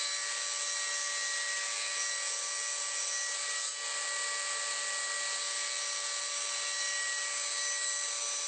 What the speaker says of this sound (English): I prefer to cut the mortise at the table saw.